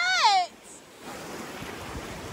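Ocean waves wash in as a soft, steady surf hiss that starts about a second in and runs to the end, following a brief high-pitched voice at the start.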